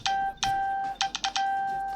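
A Figgers F1 phone chimes a repeated notification tone, a bright steady beep broken by several short gaps, loud and close with no voices.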